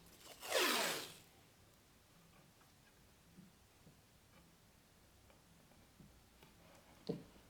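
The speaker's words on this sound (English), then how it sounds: "Okay, so I want to put the tape around all the edges." Tape pulled from a roll with a single loud, ripping zip, followed by quiet faint taps and a second short tear as it is pressed along the edges of a bamboo board.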